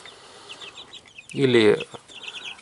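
Chickens in a cage give one loud, close burst of clucking in the middle, with fainter clucks and chirps around it and a single brief spoken word.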